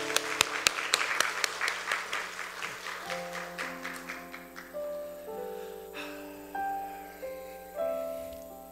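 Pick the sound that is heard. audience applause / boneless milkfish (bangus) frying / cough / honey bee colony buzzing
audience applause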